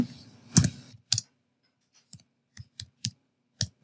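Typing on a computer keyboard: close, crisp key clicks in short irregular bursts separated by near silence, with a longer cluster at the start.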